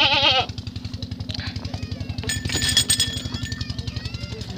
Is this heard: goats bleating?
yes